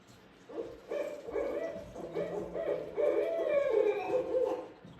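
A barred owl gives an excited caterwauling call, a run of loud, wavering hoots and wails that rises and falls over several seconds, close and clear with no talk.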